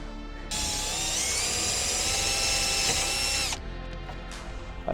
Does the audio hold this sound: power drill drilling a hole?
yes